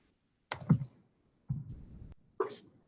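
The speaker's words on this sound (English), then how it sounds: "Typing in the box is very helpful, isn't it?" Keys tapped on a computer keyboard in three short bursts of clicks separated by brief pauses, quiet and close, with no talking.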